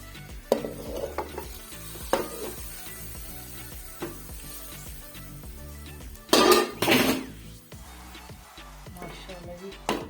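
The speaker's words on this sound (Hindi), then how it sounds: "तड़का लगाएंगे इसको।" Hot oil spits and crackles as tempering spices hit it for kadhi pakora, with a loud burst of sizzling midway, pan clatter and stirring, and some voices nearby.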